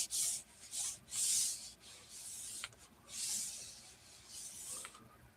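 Handmade buttons being rubbed in several bursts of hissy, scratchy rubbing, close and fairly loud, separated by short pauses.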